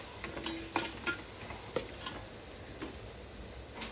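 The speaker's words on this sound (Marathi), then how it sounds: "हे मसाले सर्व तेलावर छान असे परतवून घ्यायचे आहेत" A spoon clicks and scrapes against a pan as garam masala powder and spices are stirred in hot oil for a crab curry, with a soft sizzle underneath and no talk.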